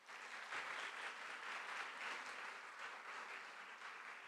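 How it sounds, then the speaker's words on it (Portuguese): Church congregation applauding during a sermon, a steady, even wash of many hands clapping that sounds faint and distant and holds for several seconds. "Pode aplaudir, pode aplaudir."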